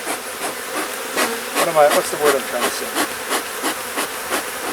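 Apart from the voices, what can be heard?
honey bees buzzing at a hive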